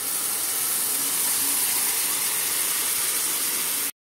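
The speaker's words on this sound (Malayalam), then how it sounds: "ഇനി ഇതിലേക്ക് നമുക്ക് ബീഫ് ഇട്ട് കൊടുക്കാം" Pieces of beef for a spiced beef roast drop into a hot pan with chili and spices, giving a loud, steady, close sizzling hiss that holds without a break before cutting off abruptly.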